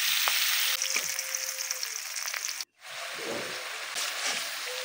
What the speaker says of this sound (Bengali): ভাজা হয়ে গেলে এখন আমি পেঁয়াজগুলো ভেজে নেব।